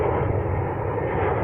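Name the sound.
jet aircraft near the airport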